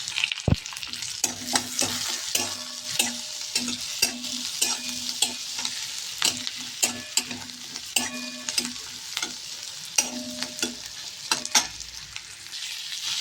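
Onion and green chillies sizzle in a hot mustard-seed and cumin tempering, a steady close frying hiss broken by frequent scraping stirs of a spoon against the pan, with no voices.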